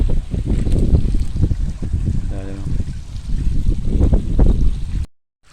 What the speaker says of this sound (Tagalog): Ayan na, malakas ang labas ng tubig. Diretso na dyan sa bukirin.